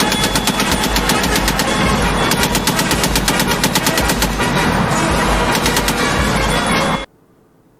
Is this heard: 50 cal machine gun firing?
yes